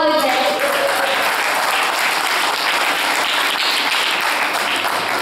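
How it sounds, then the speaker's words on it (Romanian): Audience applause at a folk music festival contest in Dumbrăvița, a steady dense wash of clapping that holds loud and even throughout. "Aplauze!"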